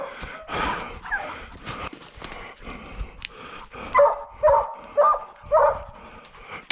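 A coonhound puppy bays and barks while treeing a raccoon outdoors, a series of drawn-out, howling barks in a steady rhythm, moderately close and loud, with rustling and breath sounds between them.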